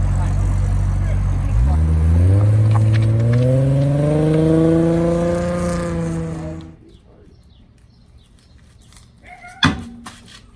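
A car engine revs up for a launch with a rising, droning whine that holds for a few seconds, then cuts out, followed by a sharp knock.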